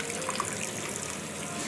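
A fish is rinsed and cleaned under running water at a Schliersee fishery: a steady, close rush of tap water runs unbroken with no voices.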